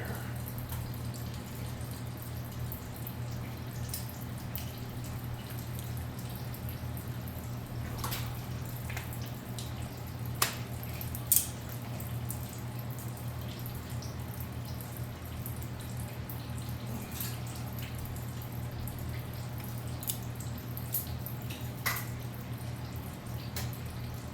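Coolant drips from the engine hoses of a 2011 GMC Acadia, with a steady low hum underneath and scattered faint drips and small clicks spread across a long stretch. No one speaks.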